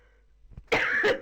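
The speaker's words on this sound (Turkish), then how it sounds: "Öksürdüm." A single short cough, close and fairly sharp, after a brief quiet moment with faint rustling.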